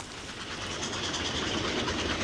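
Steam-era train running downhill south of Masbury near Shepton Mallet, a steady close rumble of carriages with clickety-clack wheel rhythm and hiss, continuous and fairly loud throughout.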